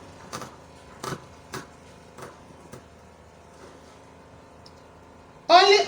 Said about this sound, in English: I'm going to cut off the excess net and lining